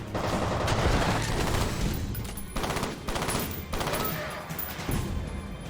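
Sustained automatic gunfire in the shooter F.E.A.R., dense rapid bursts with short gaps, loud and close, with a voice talking faintly beneath.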